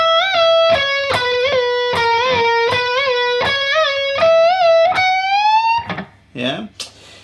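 Distorted electric guitar plays a riff, a run of picked, sustained notes ending in a wide, slow upward string bend, loud and close, followed by a brief burst of noisy strumming.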